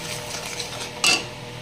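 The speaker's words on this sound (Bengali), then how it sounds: "দিয়ে ভালো করে নাড়াচাড়া করে নেব।" A spoon stirs a besan spice mixture with sugar and salt in a cooking pot, scraping softly with light clinks. A sharper metallic clink of utensil against the pot rings out once near the end. The sounds are quiet and close.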